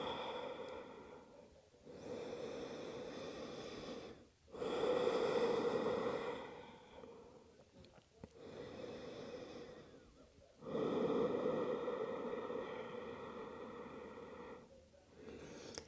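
Heavy breathing after a strenuous vinyasa yoga sequence, with long, loud exhales recurring every few seconds from close by, easing and swelling in a slow rhythm, no talk.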